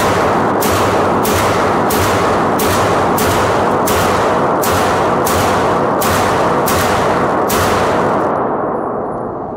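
About eleven loud, evenly spaced shots from a 2011 pistol ring out at an outdoor range, each a sharp crack over a constant noisy background, with metallic ringing between them.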